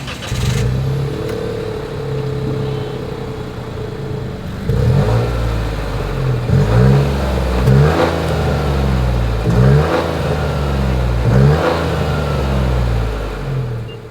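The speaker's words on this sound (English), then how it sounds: "As always, here is that exhaust clip." Exhaust of a 2025 Nissan Rogue revving up several times in a row, each rise in engine pitch followed by a fall back to idle, loud and close with no talking.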